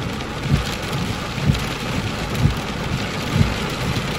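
Heavy rain pours down during a spring thunderstorm, a dense, loud hiss of drops with soft low rumbles thudding at roughly one-second intervals and no voices.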